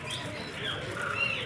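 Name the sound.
small birds at a park bird house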